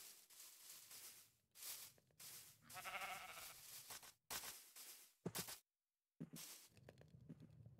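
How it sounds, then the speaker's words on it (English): Sheep in the Minecraft video game let out a few short bleats amid choppy game sounds, faint overall with abrupt gaps of silence between bursts. "What's the sound? Sheep, what are you doing? You can't go in my house, buddy."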